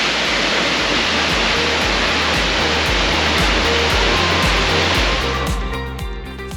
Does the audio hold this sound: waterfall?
yes